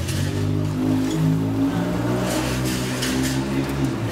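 A Porsche accelerates on a Paris street amid a group of bikes, its engine a loud, steady drone with a rising rev throughout, close by and without voices.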